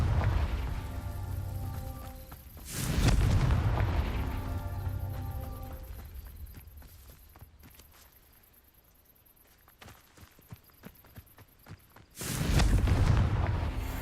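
Confringo blasting spell detonating in the Hogwarts Legacy video game, two loud booming bursts several seconds apart with rumbling fire and scattered crackles between them, no talking.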